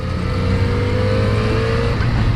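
A Yamaha XJ6 motorcycle engine on a test ride, a loud steady drone with a rising tone as it pulls through the gear, close and continuous with wind rush.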